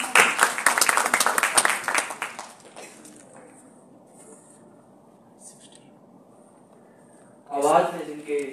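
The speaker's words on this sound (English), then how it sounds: "So please welcome Nikhil with a huge round of applause" An audience at an elocution contest's concluding ceremony claps to welcome a speaker. A loud burst of applause lasts about three seconds, fades into a quiet room, and then a voice speaks near the end.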